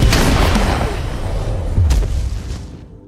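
A gunshot in a mafia action movie: a loud, booming blast opens the moment, followed by a second heavy report just before the two-second mark, both ringing out over a dense, rumbling soundtrack.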